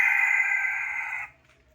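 A Texas-breed gamefowl rooster crows close and loud in one sustained, strained call that cuts off abruptly after about a second, followed by quiet.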